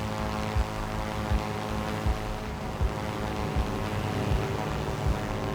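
Aircraft on final approach to Istanbul Airport in the naval game Sea Power, a steady droning engine hum with a regular pulsing low thump, close and continuous without voices.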